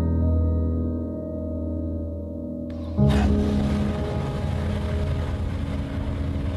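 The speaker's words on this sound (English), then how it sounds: "it makes a unique and special sound and gives the car character" A turbocharged Mazda Miata NC with a titanium exhaust system rumbles with a low, steady engine drone, then grows louder and rougher at about three seconds as the revs rise, on a night run.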